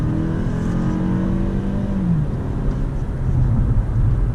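A 2018 Toyota Camry engine accelerating from inside the cabin, a smooth rising drone that climbs in pitch, dips briefly at a shift, then builds again, loud and continuous with no talk.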